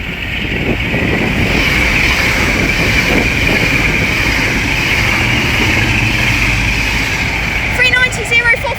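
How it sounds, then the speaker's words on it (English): Diesel locomotive 47727 Edinburgh Castle at Watford Junction rumbles loudly and steadily close by, a continuous engine drone with a high whine, as a voice is heard over it. "47727 Edinburgh Castle is sounding great."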